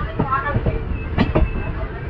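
A passenger express train departs slowly from Bareilly junction, giving a low rumble with a few soft wheel clacks over the rails, steady and moderate under faint background noise.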